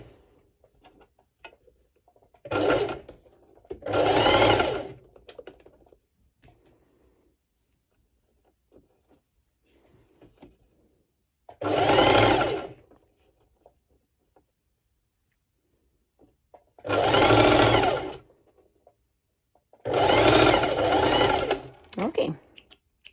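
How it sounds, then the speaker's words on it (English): Sewing machine running a basting stitch on bikini fabric, several short loud whirring bursts separated by quiet pauses, with faint handling sounds and soft talk in between. "I'll be doing here a basting stitch."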